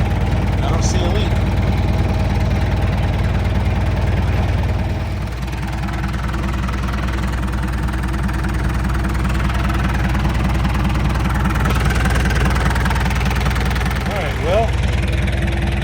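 A Komatsu bulldozer's diesel engine idles steadily with a low, even rumble and faint vibration, running continuously close by with a brief dip partway through.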